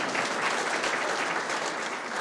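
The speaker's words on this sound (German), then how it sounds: "Also es verlangt wirklich nach einem echten Beifall." Audience applause at a gallery speech during a cultural event at the Schwarze Pumpe power plant: a dense, steady wash of many hands clapping, sustained and even throughout, with no voices.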